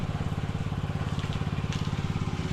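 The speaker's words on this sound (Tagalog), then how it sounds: "nagpandar naman tayo ng makina" Small engine of a grass-cutting machine running steadily on a field, a close, loud, rapid pulsing drone with an even rhythm and no talk.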